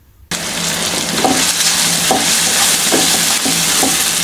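A tomato is stirred and sautéed in a pan for a dal and spinach curry. A loud, close sizzle starts abruptly after a brief silence, and rhythmic utensil scrapes repeat through it.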